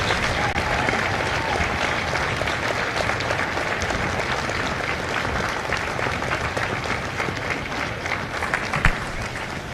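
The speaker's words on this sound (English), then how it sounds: "a round of applause for their dedicated service to Corps and country" Audience applause at a Marine Corps recruit graduation at MCRD San Diego, a sustained, dense roar of clapping from a large outdoor crowd that stays loud and even for the whole stretch, with a scattered cheer near the end.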